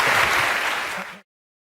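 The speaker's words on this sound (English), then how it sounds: "Al Murray, give him a round of applause." A stand-up comedy audience gives Al Murray a round of applause, dense and loud from many hands, holding steady before cutting off abruptly into silence.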